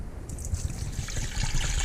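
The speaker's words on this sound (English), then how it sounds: "I'm going to pour some water in it." Water pours steadily into a pot of unpeeled carrot and other vegetable scraps for chicken stock, a continuous close trickle and splash that builds slightly louder toward the end, with no talking.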